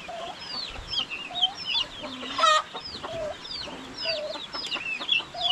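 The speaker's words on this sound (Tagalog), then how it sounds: "Mga sisiyo ng pato," A crowd of ducklings, turkey chicks and goslings keeps up a steady chorus of high, thin peeps at close range, with some clucking mixed in from nearby.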